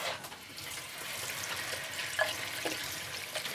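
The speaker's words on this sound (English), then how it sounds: "let me wash my hands." A tap runs into a sink as hands are washed in a GP's consulting room, a steady soft hiss of water with a few faint clinks and splashes, with no one talking over it.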